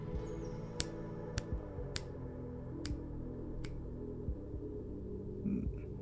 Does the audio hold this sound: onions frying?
no